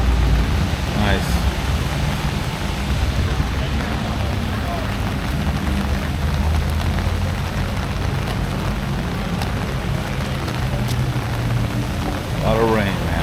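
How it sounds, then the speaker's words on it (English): Heavy summer rain pours steadily at a classic car show, a dense, continuous hiss and patter with occasional low rumbles and brief voices in the background. "A lot of rain, man."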